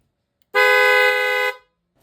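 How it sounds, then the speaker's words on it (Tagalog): A loud aftermarket horn fitted to a Honda ADV 160 scooter gives one steady, close blast of about a second, then cuts off into silence. "Sa loud horn lang ito nakalagay."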